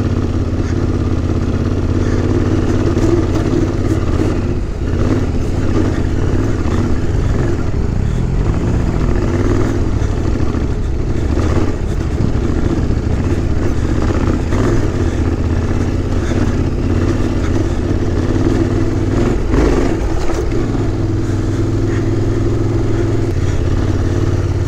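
A 2021 Yamaha Tenere 700 motorcycle rides off-road in Death Valley, its engine droning steadily and loudly throughout with small rises and dips in revs and continuous wind and terrain rumble.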